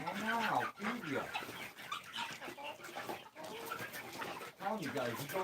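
Chickens cluck and call on a farm near a cage, with bird sounds dense and continuous across the clip, moderately loud and close.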